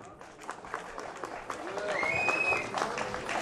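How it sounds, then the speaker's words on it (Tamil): An audience applauds dancers after an Indian dance at a stage show, a steady patter of clapping under a voice speaking over it. "அவர்களுக்கு உங்கள் கரகோஷம்."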